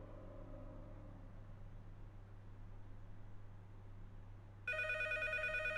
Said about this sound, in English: Apparently a phone should be ringing.